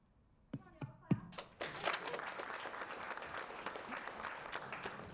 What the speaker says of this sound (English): Come on, y'all, clap.